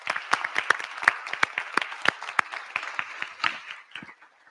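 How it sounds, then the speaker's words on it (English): Audience at a school board of education meeting applauding in a steady round of claps, moderately close, tapering off toward the end. "Let's give them a round of applause."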